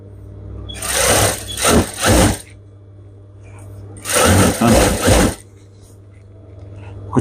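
A domestic sewing machine stitches fabric in two short, loud, close bursts of rapid whirring, each about a second and a half long, separated by a quieter stretch with a low steady hum.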